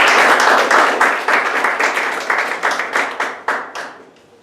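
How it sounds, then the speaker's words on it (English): Applause from a small Toastmasters meeting audience: sharp individual claps clearly separable, close and fairly loud, thinning into sparser rhythmic claps before trailing off near the end. "So please give him a big round of applause"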